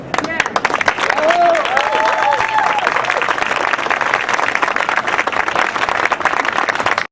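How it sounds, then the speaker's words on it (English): An audience at a Rutgers-Camden building opening applauds, thick continuous clapping with a few cheers or whistles rising early on, steady throughout. "I want you to hear the applause that you deserve."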